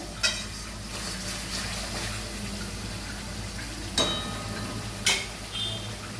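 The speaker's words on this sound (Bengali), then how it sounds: "নুনটা দিয়ে আমি আরেকটু ভালোভাবে কষিয়ে নেব" Masala spices being stir-fried in a pan after salt is added, for a yogurt katla fish curry. A continuous, fairly quiet sizzle runs throughout, broken by a few sharp clinks of a spoon against the pan.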